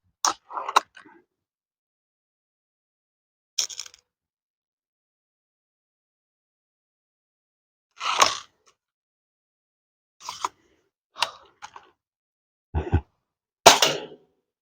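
M16 shots fired over a chronograph, a handful of sharp isolated cracks spaced several seconds apart in near silence, some in quick pairs, close and loud.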